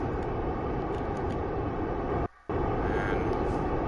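A rocket engine in Kerbal Space Program throttles up, giving a steady, loud roaring rumble that is broken by one brief dropout before the roar resumes.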